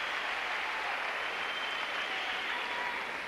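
Tennis crowd at the US Open, in a Henman–Federer match, breaks into a rousing ovation after a shot: dense, steady applause and clapping that fills the whole stretch at an even, loud level.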